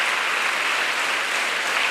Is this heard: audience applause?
yes